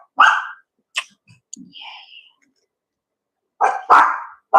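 A dog or dogs bark in a few sharp, separate bursts with quiet gaps between them, plus faint clicks and small whimper-like sounds; the barks are close and loud and come at the start and end.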